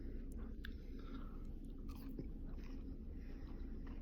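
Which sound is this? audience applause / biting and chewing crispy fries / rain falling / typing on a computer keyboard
biting and chewing crispy fries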